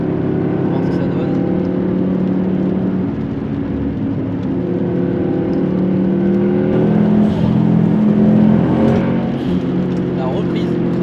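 Subaru WRX STI 2.5-litre engine pulling hard under load, heard from inside the car: a loud, continuous droning roar with harmonics that rise steadily as it accelerates.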